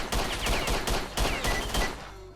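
Rapid exchange of gunfire in a Stalker 2 shootout, loud repeated bursts of shots in quick succession with short gaps, close and sharp, no talking over it.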